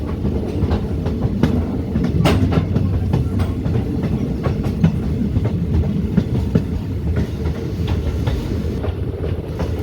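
A diesel passenger train runs through Edamon station without stopping, its wheels beating a steady clickety-clack over rail joints with a continuous loud rumble heard from on board.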